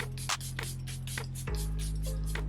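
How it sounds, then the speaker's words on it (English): Makeup fixing spray misted onto the face in short bursts, several quick soft hissing spritzes in a row, close and fairly quiet over a low background hum. "So I'm gonna take the same spray, like put on my eyes and spray the top."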